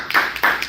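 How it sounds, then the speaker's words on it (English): A small group of students at a class session claps briefly, two or three quick bursts of hand claps over less than a second, close and fairly loud. "Round of applause."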